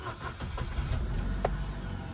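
Vauxhall Corsa engine starting and settling into a steady idle, a close, continuous low rumble with a few brief mechanical clicks and no talking.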